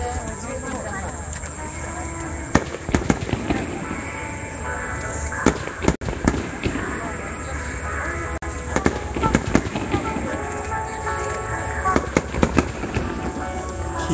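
Fireworks pop and crackle in repeated bursts over a steady background, with people talking and a noisy crowd around them, at the Shinmei fireworks festival in Japan.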